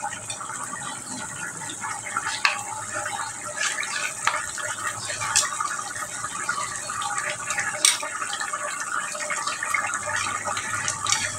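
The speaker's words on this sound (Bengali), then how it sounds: "আমি এই চাউলের গুঁড়াটা অল্প একটু জল দিয়ে গুলে নেব।" Rice flour is stirred into a little water in a bowl, giving soft swirling, sloshing liquid sounds with small clinks, close and steady, over a faint background hum.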